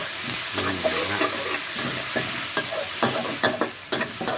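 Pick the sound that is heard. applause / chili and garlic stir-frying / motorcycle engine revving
chili and garlic stir-frying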